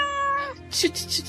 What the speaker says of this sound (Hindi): म्याऊ म्याऊ की आवाज सुनाई दी